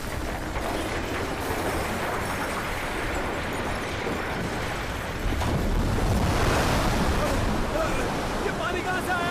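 Tsunami waves and a flood of rushing water surge in a steady, loud roar that swells even louder partway through, with no voices over it.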